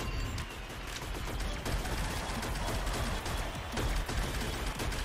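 Dense, continuous automatic gunfire from the online shooter Shadowgun Legends during a PvP match, loud and sustained with rapid overlapping shots and no break.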